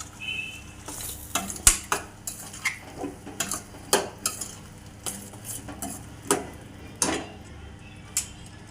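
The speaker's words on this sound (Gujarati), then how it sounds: "આપણે શાકને સરખી રીતે મિક્સ કરી દીધું છે।" A spoon repeatedly scrapes and taps inside a pan while a ripe banana curry cooks, producing a dozen or so sharp metallic clinks over a soft, steady sizzle.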